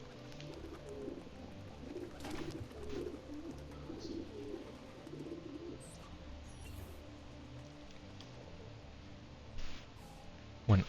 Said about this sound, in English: Oh, that's the pigeon coop.